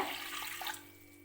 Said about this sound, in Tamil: இப்போ குக்கரில் கொஞ்சமாக தண்ணி சேர்த்துக்கிறேங்க